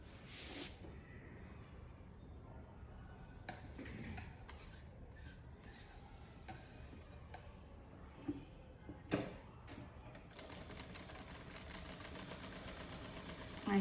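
A sewing machine stitching a cross patti strip onto a garment neckline, with a quiet, steady motor whir and light rhythmic stitching, faint and close, broken by brief handling noises.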